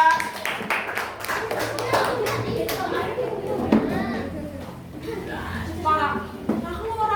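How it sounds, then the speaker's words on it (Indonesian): Pupils applaud group 2 in a classroom with a burst of many hands clapping close by. Children chatter and call out over the clapping, and it gradually thins out. "Tepuk tangan kelompok 2."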